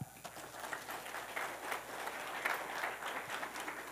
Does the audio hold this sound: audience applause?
yes